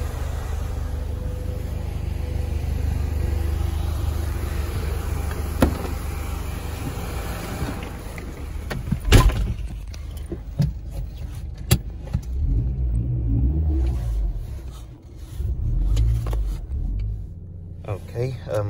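A Mercedes with a flat tire and warning lights on the dash rumbles low while being driven, with knocks and clatters and people talking over it.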